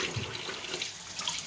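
Water runs steadily from a kitchen tap while an apple is washed, a soft continuous splashing hiss at low level with no talk over it.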